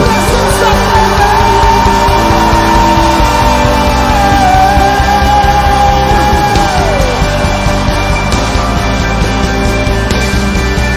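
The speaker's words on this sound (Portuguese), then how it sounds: "Dê um grito de libertação na presença dele!" A church congregation at an evening honor congress shouts and cries out together in a loud, sustained roar of voices, with a long wavering yell rising above the mass of sound.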